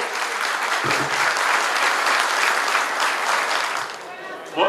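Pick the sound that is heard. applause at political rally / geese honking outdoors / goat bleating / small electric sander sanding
applause at political rally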